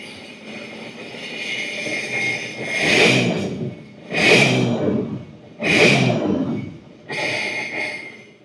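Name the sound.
Scarab jet boat engine revving throttle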